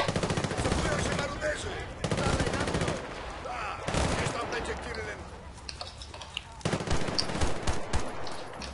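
Dense, loud bursts of rapid automatic gunfire from the video game Battlefield: Bad Company 2, continuing almost nonstop with brief breaks and a voice mixed in.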